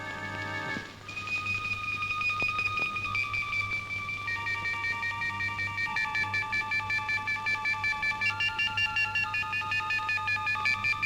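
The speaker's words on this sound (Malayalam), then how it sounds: "ഞാൻ അവർക്ക് ഫോൺ ചെയ്യാം" Telephone dialing tones, a continuous run of steady electronic beeps and tones lasting throughout, loud and close, alone without talk, with a low hum underneath.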